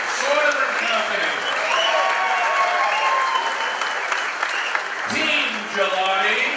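A crowd claps continuously at an engineering contractors' dinner event, a dense and even wash of applause that holds steady for several seconds, with some chatter mixed in.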